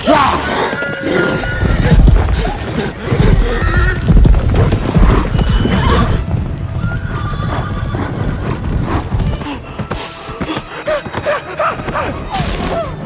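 A horse neighs loudly and its hooves clip-clop at a gallop in a film chase scene, with shouting voices and turbulent action noise mixed in around the animal.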